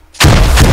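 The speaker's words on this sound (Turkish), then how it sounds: "El bombası!" A grenade blows up in a clan skirmish match in a video game, erupting suddenly into a loud, close, broadband blast that rumbles on without fading.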